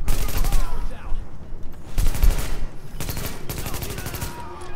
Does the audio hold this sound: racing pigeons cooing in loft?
no